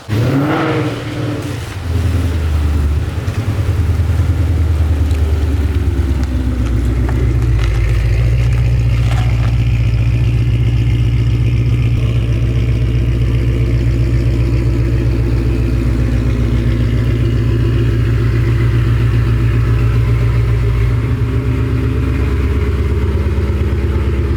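A 2020 Ford Mustang's engine runs close and loud, rising from an initial rev into a steady, throaty rumble that holds through the whole stretch as the car is driven in, with no talking over it.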